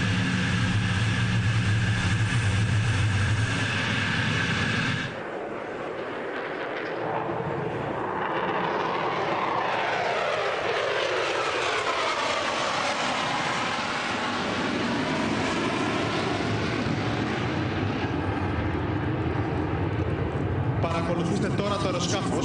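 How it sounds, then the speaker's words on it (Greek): F-16 fighter jet flying inverted in a low Negative Buzz pass at an air display, a loud broadband roar whose pitch sweeps as it passes, heard under continuous commentary from an announcer. "Θα δείτε το F-16 να πετάει σε ανάστροφη πτήση."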